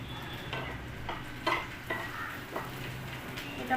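Greens stir-fried in a pan, a soft continuous sizzle broken by a few scraping stirs, close by with no talking.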